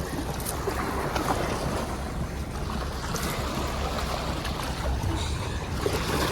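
Waves from a passing launch boat wash in at sea near the shore, a steady loud rush of water and surf mixed with wind noise on the microphone.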